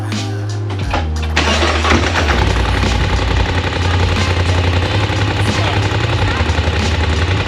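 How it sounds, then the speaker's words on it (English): A Polaris side-by-side's small engine cold-starts, cranking with a few sputters, then catches and settles into a loud, steady, rattling idle. "So here's cold start."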